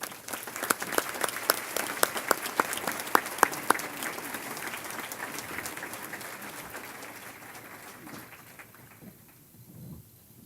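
Applause rises at an award ceremony honoring women, with sharp individual claps standing out near the front before the sound thins and fades away.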